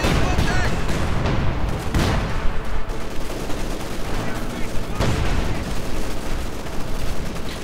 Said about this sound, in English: the bombing run was too late.